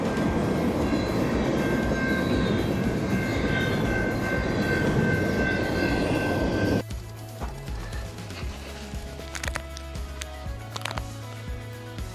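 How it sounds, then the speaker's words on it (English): A long freight train rumbles past close by with a broad, continuous roar and rhythmic rattling of cars, then fades to a lower rolling clatter. "we're gonna get held up by a train"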